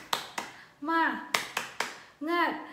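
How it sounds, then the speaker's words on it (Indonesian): Schoolchildren in a fourth-grade class perform the tepuk semangat clapping chant: sharp rhythmic claps in a quick pattern alternating with shouted chant syllables, close and lively, repeated twice. "Kita tepuk semangat yuk, biar kita semangat untuk belajar."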